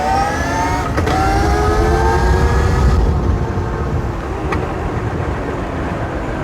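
A BRZ Racoon Pro 84v 21kW electric motorbike launches at full throttle from a standstill in second gear, with a steady loud rush of motor whine and wind roar and rising tonal sweeps.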